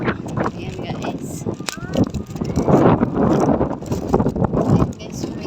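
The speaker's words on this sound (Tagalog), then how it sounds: "Ay, talaks ang hangin." Gusty wind buffets the microphone in loud, uneven rumbling bursts outdoors at the Esplanade in Singapore, with brief voices breaking through now and then.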